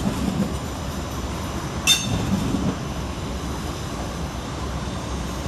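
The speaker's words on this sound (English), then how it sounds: "arriving to terminate behind him with a Heathrow Express service off Heathrow Terminal 5 is 387 135 and 387 136" Heathrow Express Class 387 electric units, 387 135 and 387 136 coupled together, draw into London Paddington to terminate, a steady low rumble of wheels on rail with one brief high squeal partway through.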